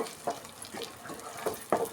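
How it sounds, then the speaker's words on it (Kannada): Spice masala for okra sambar fries in a pan, giving soft, intermittent sizzles and stirring scrapes in short bursts, fairly quiet and close, with no talk. "ಇಷ್ಟು ಫ್ರೈ ಆದರೆ ಸಾಕು."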